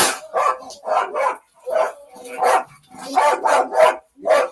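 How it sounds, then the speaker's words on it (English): Dog barking repeatedly, a run of loud close barks and yips in uneven bursts with short pauses between. "Send that dog in."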